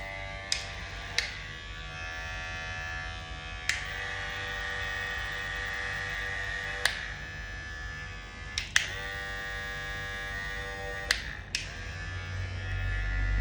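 A Chemi electric hair trimmer runs steadily with a constant buzzing hum, punctuated by a few sharp clicks or taps, heard close with no talking.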